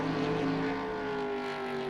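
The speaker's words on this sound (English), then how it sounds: "Engines, fluctuating up and down and things." Race car engines in the 1996 game NASCAR Racing 2 on a smaller track, a dense layered drone of several motors whose pitches waver up and down together, steady and close with no talking.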